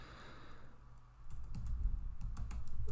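Computer keyboard keys tapped out in a quick burst while typing a search query, the clicks fairly close and continuous over a faint background hum.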